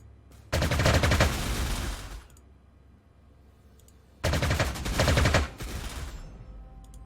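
A fighter-bomber attack in the wartime strategy game Panzer Corps 2 plays as two loud bursts of dense rapid gunfire and explosions about four seconds apart, each roughly one to two seconds long, separated by quiet near-silence.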